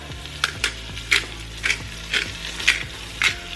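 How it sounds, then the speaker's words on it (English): Short ribs searing in a pressure cooker pot, a low steady sizzle broken by about seven rhythmic scraping stirs or pokes at the meat, close and fairly loud. "As your short ribs are searing"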